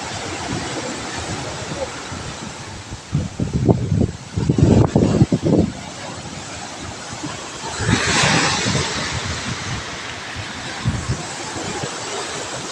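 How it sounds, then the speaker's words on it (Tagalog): Heavy ocean waves roll and crash in a steady roar at a barangay shore, with gusting wind and brief bursts of nearby voices over the surf. "Ito. laki ng alon."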